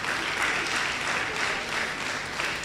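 Audience clapping at a Women's Day celebration at a university, a brief, steady burst of many hands applauding together.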